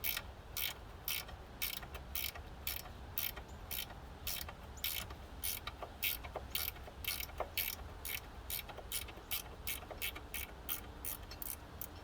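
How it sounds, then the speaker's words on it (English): A ratchet wrench turns a bolt on a motorcycle clutch, probably a KE100, with a long run of evenly spaced, close, crisp clicks across the whole stretch. "these ratchet wrenches make things a lot nicer"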